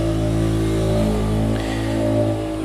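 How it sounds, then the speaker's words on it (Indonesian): A motorcycle engine being tested nearby revs loud and continuous, its throbbing drone rising and falling with the throttle, with no talk. "ada hak yang lagi ngetes motor sepertinya ya. Jadi berisik banget ini motornya."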